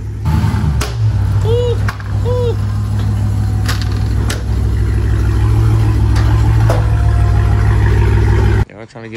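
A car with a newly replaced, broken driveshaft, raised on a lift, makes drivetrain noise as it is shifted into drive or reverse: steady close engine hum broken by a few sharp clunks and knocks, with no voices.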